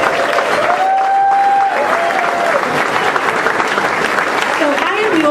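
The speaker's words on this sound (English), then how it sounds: "Give her a round of applause." Audience applause for someone speaker stepping up to give a talk, steady and full-bodied for several seconds, with a few whoops and voices rising above the clapping.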